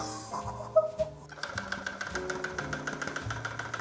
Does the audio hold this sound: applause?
no